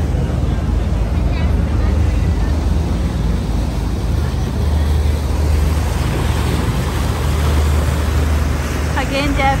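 Steady engine rumble and rushing water wash, with wind buffeting the microphone throughout, as if riding aboard a moving boat on a river in Paris.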